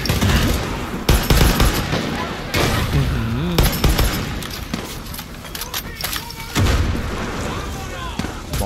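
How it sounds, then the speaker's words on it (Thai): Gunfire in the video game Far Cry 6: sharp bursts and booming shots break up a dense, busy battle scene, and people talk and shout over the top of the shooting. "แล้วมึงยิงใส่รถกูเลยดีด้วยนะ"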